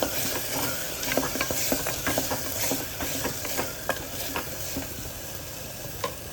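Chicken chilli stirred with masala, soy sauce and chilli sauce, a dense sizzle under rapid, repeated scraping and knocking of a spoon in the pan, close and continuous with no talking.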